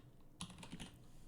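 Computer keys are typed to enter a command, a short quick burst of several crisp clicks close by over a quiet room.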